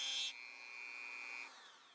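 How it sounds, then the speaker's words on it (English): A Dremel rotary tool fitted with a grinding burr whines at high pitch on a brass washer, a brief harsher grinding burst giving way to a steady spinning tone that then drops off as the tool lifts away. "I'm using a Dremel with a grinding burr."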